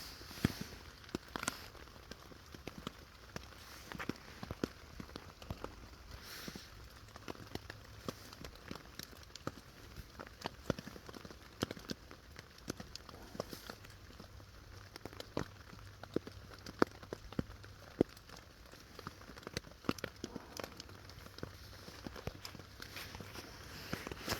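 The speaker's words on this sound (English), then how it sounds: "Yeah, definitely still raining." Steady light rain patters on a taut tarp overhead at a camp, with scattered irregular drips tapping close by throughout.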